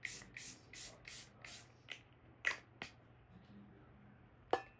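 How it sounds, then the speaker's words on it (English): Setting spray misted onto a face in a quick run of about five short hissing bursts, followed by a few isolated sprays, close and fairly quiet. "I'm gonna set my face with setting spray"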